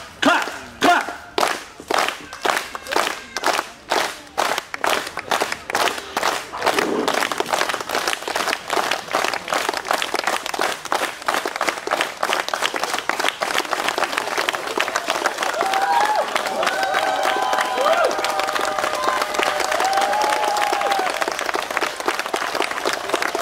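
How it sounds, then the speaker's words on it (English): Crowd at a jousting event claps along in time, slow even claps at first, then merging into louder, sustained applause and cheering. "Clap, all right, everybody. Clap, clap, clap, clap."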